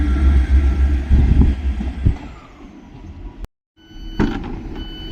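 A loud rumbling train on the Manchester–Southport line with heavy low-frequency roar and clattering, briefly cutting to silence, then resuming with a hissing brake-like burst.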